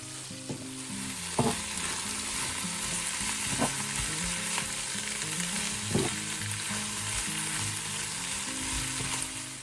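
Freshly picked garden vegetables cooking gently with a little salt in a pan, a continuous soft sizzle with occasional spatula scrapes and stirs, steady and close, no voices.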